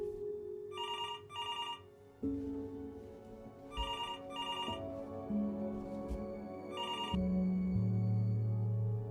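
Telephone ringing in the video game Before Your Eyes, four repeated double-pulse electronic rings spaced a couple of seconds apart over a sustained musical drone.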